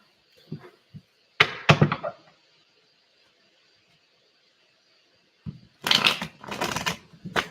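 Tarot cards are shuffled up close in short bursts of rapid riffling and flapping, a few quick taps first, then a pause, then two more vigorous shuffles.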